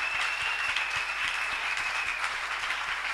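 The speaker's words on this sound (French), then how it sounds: "Acclamons très fort le Seigneur Jésus-Christ." A church congregation claps and applauds continuously, a dense, even wash of hands throughout.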